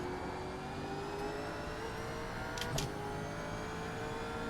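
A Gen 3 V8 Supercar engine in the iRacing simulator hums steadily at mid revs through a corner at Spa, with a brief sharp burst midway, alone and moderately quiet.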